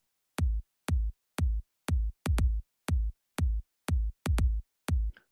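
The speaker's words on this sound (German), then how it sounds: "Ich zeige das beim Beispiel Sample Bass Drum." A punchy electronic bass drum sample, played in Sonic Pi, thumps in a steady rhythmic pattern, about a dozen deep booming hits with brief silences between them.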